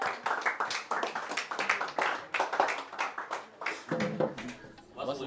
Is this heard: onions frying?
no